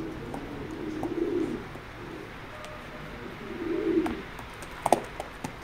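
A pair of racing pigeons at a loft coo softly in two low bursts, with a few faint clicks and flutters between them in otherwise quiet surroundings.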